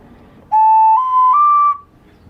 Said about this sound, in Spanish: Hacerle orificios para hacer una flauta o silbato